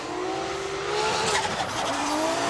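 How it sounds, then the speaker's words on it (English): A Toyota JZX100 Chaser drift car slides through a Formula Drift Japan course, its engine roaring loud and steady while the tires squeal and skid continuously, heard close and alone for a couple of seconds. "Starts his drift off at 3-2-1, getting right on the line for outer zone 1."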